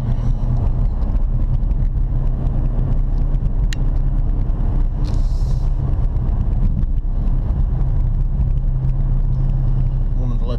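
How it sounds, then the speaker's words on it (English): Old Dodge Challenger driving on the road, a steady low engine rumble with some wind noise throughout, close and continuous, with faint talk underneath. "The old Dodge Challenger warm up a little bit. Love driving this thing and shifting through the gears."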